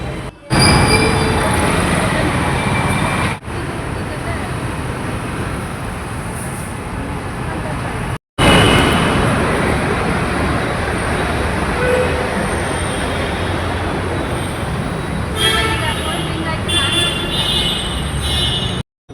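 A Bengaluru metro train rumbles loudly and continuously, with wheel and rail noise, brief cutouts and some higher squealing tones toward the end.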